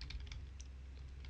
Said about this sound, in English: start typing antenna and hit enter there